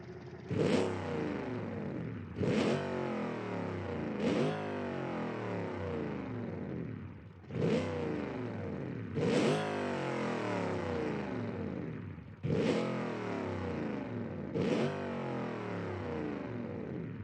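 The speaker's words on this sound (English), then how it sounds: "The Edison Analog TT Dakar is running with 816 horsepower, 10-liter V8 turbo." Edison Analog TT Dakar all-wheel-drive truck with a 10-liter turbo V8 in Automation, revved hard in repeated bursts: seven sharp throttle blips each rising into a loud roar and falling away, steady and close with no talk.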